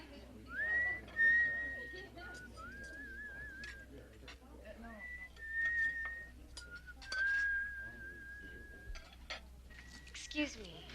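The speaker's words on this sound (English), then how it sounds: "that tune you were whistling, it's so familiar" A person whistles a wavering melody in short phrases, close and clear, with faint clinks of dishes and murmured talk in the background.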